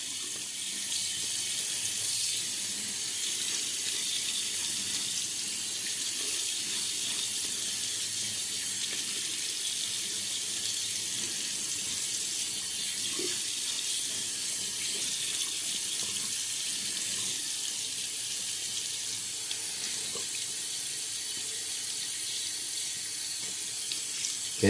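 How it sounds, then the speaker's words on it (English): A tap runs in a steady, close, hissing stream over a sink as a shaving brush is soaked, continuous throughout with only faint shifts in the splash. "Getting the brush nice and wet."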